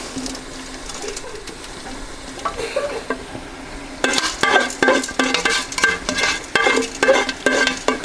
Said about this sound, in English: And I'm adding in everything, jalapenos, seeds.